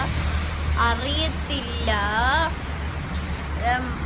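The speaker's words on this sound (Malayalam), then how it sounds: "ഇത് നല്ല മഴയാണ് കേട്ടോ, വലിയ മഴയാണ്" Heavy rain falls in a constant loud hiss that fills the background while a person talks over it.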